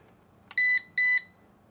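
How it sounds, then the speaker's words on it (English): A G11 Pro drone controller gives two short, identical electronic beeps in quick succession as recording starts, bright and close against near silence. "here's beeps twice, and it starts recording"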